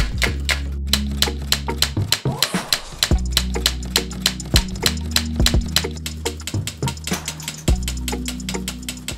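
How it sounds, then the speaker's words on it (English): 1930s mechanical typewriter driven by a DIY automation rig, typing in a fast, steady stream of loud, close key strikes with metallic clacks, a low motor hum underneath and a brief pause near the start. "Of a typewriter is the sound of productivity"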